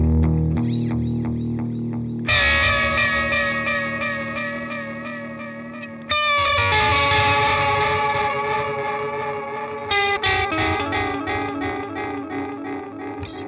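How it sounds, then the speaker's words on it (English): Guitar through a T-Rex Reptile 2 analog delay pedal with the flutter modulation engaged, repeated notes and chords wavering in pitch and smearing into a chorus-like shimmer, loud and sustained across several struck phrases with no talk. "it's just adding a sort of pitch up and down effect, which when the successive repeats intermingle, ends up chorusing."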